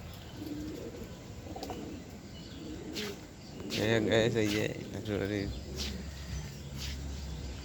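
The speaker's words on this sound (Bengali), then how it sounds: "দেখে নাও এই যে কতগুলো পায়রা আছে এখানে" Pigeons cooing in a rural yard near a pond and field, soft repeated coos at moderate distance, with a person talking over them.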